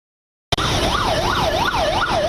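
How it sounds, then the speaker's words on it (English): Ambulance sirens wail outside a COVID-19 hospital in Gujarat, India, amid a long line of ambulances; a loud, close siren rises and falls in a steady repeating sweep over traffic rumble, starting abruptly and continuing without pause. "A long line of ambulances outside a COVID-19 hospital in the state of Gujarat"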